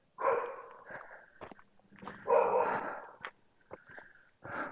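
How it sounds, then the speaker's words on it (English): A dog barks several times at a campground cabin in Pennsylvania Dutch Country, the barks close and fairly loud, arriving in irregular bursts with short gaps and some faint movement between them. "No, that is not Milo barking."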